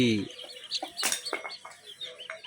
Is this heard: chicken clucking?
yes